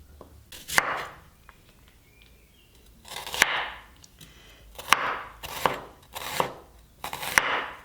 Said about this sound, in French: Je coupe très fin 2 oignons, de petits oignons